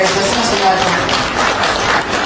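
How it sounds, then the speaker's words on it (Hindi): Loud, dense applause from an audience at a jatra stage show fills the scene steadily from start to end, with voices faintly mixed underneath. "गोटे जोरदार ताली"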